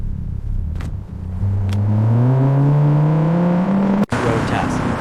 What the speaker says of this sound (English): Engine revving.